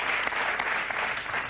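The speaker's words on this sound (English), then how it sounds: "Big applause, ladies and gentlemen" Studio audience applause on a televised quiz show, a thick even wash of many hands clapping at once, loud and continuous with no break.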